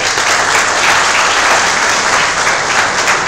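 Dense, sustained clapping from a large crowd, loud and even throughout with no voices standing out.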